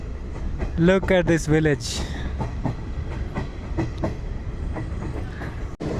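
A train passing on the scenic Ella line in Sri Lanka, its steady rumble and clatter running throughout, with a brief horn-like tonal burst near the start while someone speaks briefly over it.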